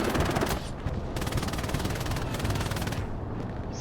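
Rapid, sustained automatic gunfire rattles without pause in a tense video game firefight, the steady machine-gun stream loud and close, briefly thinning before resuming.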